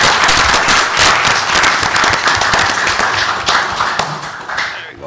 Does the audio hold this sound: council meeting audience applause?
yes